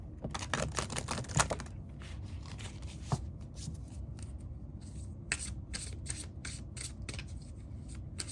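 Witch's Kitchen Oracle cards are shuffled by hand in a steady run of crisp riffling and flicking card sounds, close and continuous for several seconds, with no talking.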